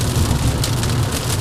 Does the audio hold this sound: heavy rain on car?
yes